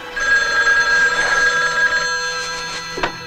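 A telephone bell rings steadily within a music sample taken from a horror-themed track, its bright tone held over a thick layered backing with no speech.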